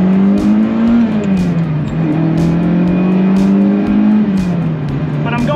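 A 1981 Ferrari 308 GTBi with a 2.9-liter engine and Bosch CIS injection drones loudly and continuously from inside the car while driving, with a steady engine note that rises and falls slightly.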